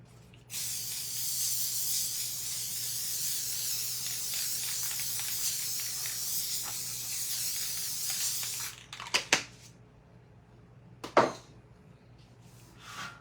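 Sealer sprays steadily onto a galvanized tray in one long continuous hiss lasting several seconds, then stops, followed by a few quick clicks and taps of the can.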